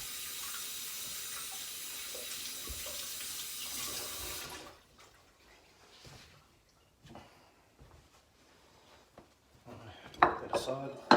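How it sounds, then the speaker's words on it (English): Tap water runs steadily and loudly as hands are rinsed at a kitchen sink during chicken Kiev breading, then shuts off, leaving quieter clinks and handling noises. "I want to rinse my hands again."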